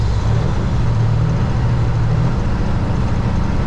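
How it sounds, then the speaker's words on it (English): Kenworth W900 truck with an Eaton Fuller 18-speed transmission, the engine droning loud and close with a steady low rumble during a downshift from about 1300 RPM, no talking. "So I'm at 1300 RPM, I'm gonna downshift."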